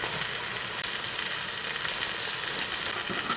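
Onions frying in a pan for Guyanese seven curry, giving a steady, even sizzle that runs unbroken from start to finish with no voices.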